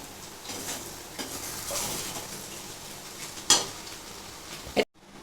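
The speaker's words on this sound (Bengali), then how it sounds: "এবার এটা আমাকে একটু আস্তে আস্তে নাড়াচাড়া করতে হবে" Fried rice and chopped omelette are gently tossed in a pan, with a soft steady sizzle and light scraping, one sharp metallic clink near the middle and a thump just before sudden silence.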